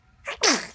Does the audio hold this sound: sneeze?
yes